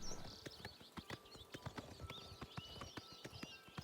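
Horse hooves clip-clopping in The Elder Scrolls IV: Oblivion Remastered, a quick, steady run of sharp hoof clops over soft ambient game music, fairly faint overall.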